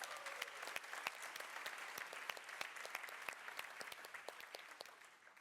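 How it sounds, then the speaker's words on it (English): An audience claps steadily at a Techstars startup demo day in Turin, a dense, even patter of many hands that holds at one level throughout and tapers slightly at the end, with no talking over it. "So another round of applause as well for Nicola and Emanuele."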